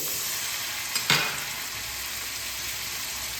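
Ginger and green chili fry in a pan as water is poured in, sending a quick sharp burst of sizzle over a steady background crackle that settles back to a soft hiss.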